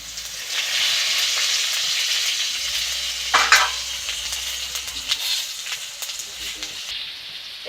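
Bay leaves, dried chillies and panch phoron sizzle in hot oil, a steady close frying hiss with a brief louder crackle burst partway through, while a Bengali fish curry with ridge gourd and pumpkin is cooked.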